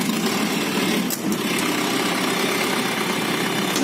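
A 50 kVA diesel generator set runs at a steady idle, giving a continuous, fairly loud mechanical drone with an even hum throughout and no voices.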